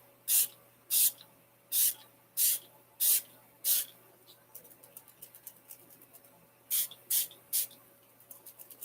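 Several sharp bursts of spray from a BH Cosmetics Illuminating Prime and Fine Dewy Glow Fixing Setting Spray pump bottle, evenly spaced, then fainter clicks and three more quick sprays close up.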